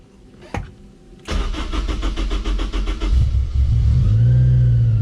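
A cold supercharged widebody Honda S2000 cranks with a rapid rhythmic starter churn for about two seconds, then catches and settles into a loud, rough, uneven idle, close to the car, after a brief sharp click at the start.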